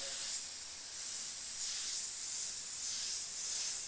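A Sagola XTECH 500 airbrush sprays paint with a soft, steady hiss that swells and eases in a few pulses as the trigger is worked, faint and close with no talking.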